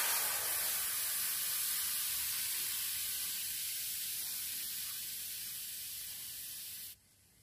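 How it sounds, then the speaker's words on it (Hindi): Tamarind pulp, soaked, seeded and strained, is tipped into a hot pan and gives off a steady broadband hiss and sizzle. The sound fades slightly over about seven seconds, then cuts off abruptly near the end. "तो ये पल्प हम पैन में डाल देंगे।"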